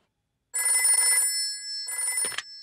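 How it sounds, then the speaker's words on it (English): Cartoon telephone bell ringing in a children's animated show, two bright electronic ring bursts with a pause between, loud and close with no talk over it. "Let's phone Grandpa."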